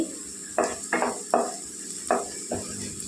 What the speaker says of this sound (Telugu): చూడండి, ఉల్లిపాయలు వేగిపోయినాయండి.